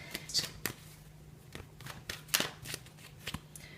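Tarot cards from two different decks being shuffled by hand, a run of crisp riffling snaps and soft slides at an uneven rhythm, close up and moderately quiet, with no voice over it.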